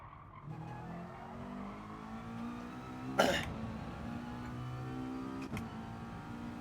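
A race car skidding wide off the track in GT Sport: a low engine drone runs under a sudden harsh screech-and-scrape burst midway, followed by a smaller scraping hit a couple of seconds later.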